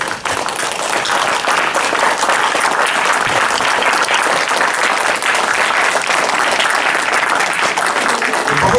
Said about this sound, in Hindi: CPI के पक्ष में आप लोग ताली बजाएं।